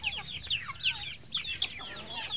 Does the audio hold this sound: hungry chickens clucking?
yes